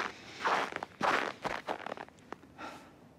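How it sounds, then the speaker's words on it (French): Footsteps crunch on a snowy railway station platform in the far north. About five or six uneven steps are heard close up in quiet surroundings, with faint rustling between them. "C'est le bruit du pas sur le quai d'une gare du Grand Nord."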